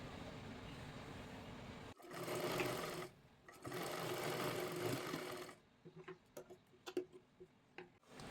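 A sewing machine stitches along a blouse edge, two bursts of steady close whirring separated by a brief pause, followed by scattered clicks and taps as the fabric is adjusted.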